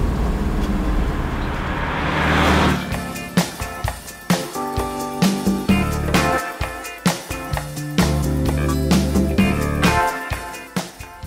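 An air-cooled boxer engine in a Volkswagen T1 (Type 2) bus runs at a raised idle, close and loud, with a rough, rhythmic pulse and repeated knocking beats throughout.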